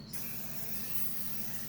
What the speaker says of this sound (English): I'm going to give it a little spray so it don't stick.